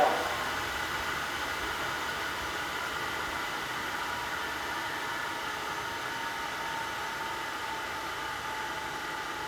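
A Viessmann Vitocrossal 200 gas boiler's combustion fan runs steadily during light-off, a constant broadband whooshing hum that holds level throughout, close and uninterrupted.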